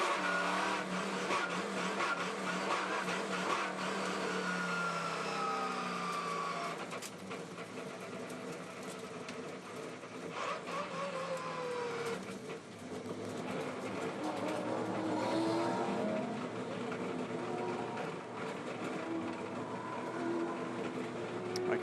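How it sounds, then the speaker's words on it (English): A race car that has lost drive or engine power slows down, its engine note falling away amid steady track and crowd noise over a continuous mechanical roar. "So Nick Ross has lost drive there, or engine power, and he slowed dramatically."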